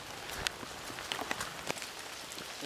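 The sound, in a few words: rain falling while walking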